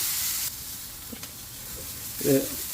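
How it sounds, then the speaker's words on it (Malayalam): Ingredients are sautéed in a pan until golden while preparing lasagna, giving a soft, steady sizzling hiss that fades a little after the start, with a brief murmur near the end. "ഇതൊന്ന് ശകലം ഗോൾഡൻ കളറാകുന്നിടം വരെ ഒന്ന് സോട്ട് ചെയ്യാം"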